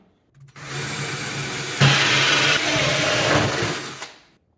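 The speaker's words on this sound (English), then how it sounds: "We also have to drill the side of the cabinet for the drain line on the dishwasher." A power drill whirs steadily for about three and a half seconds, boring through the wooden side of a kitchen cabinet with a loud, grinding buzz up close.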